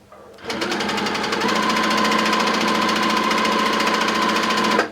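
A sewing machine runs steadily and loudly at close range, stitching a tension test sample with green thread, its rapid even hum starting after a brief pause and holding for several seconds with no talk.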